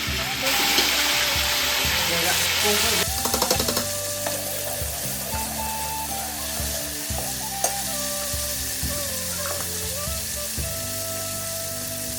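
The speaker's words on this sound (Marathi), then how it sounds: "वरण देते फोडणीला" Dal being tempered in hot oil in a home kitchen, a loud steady sizzle and crackle with stirring clatter and occasional clinks, continuing throughout.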